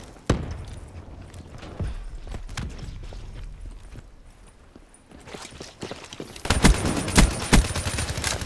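Gunfire in Black Ops 3 gameplay: sharp shot bursts early on, then a louder cluster of heavy, rapid shots near the end, with quieter game ambience between.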